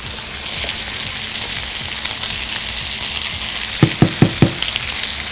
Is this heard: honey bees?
no